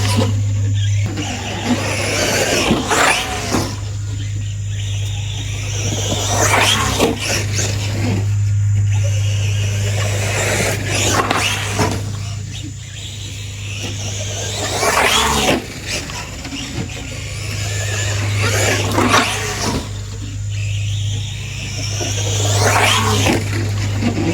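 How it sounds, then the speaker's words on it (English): Arrma Fury RC car driving through wet grass, its electric motor whining and surging in repeated bursts of acceleration, fairly close and loud throughout. "this car does have a gyro, so it's really helping me recorrect the car through this wet grass"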